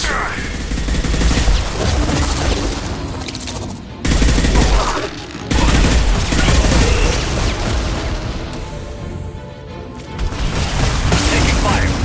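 Loud, dense gunfire and booming impacts from a Mass Effect 2 firefight fill the scene almost without a break, dropping out briefly twice, with voices mixed into the action.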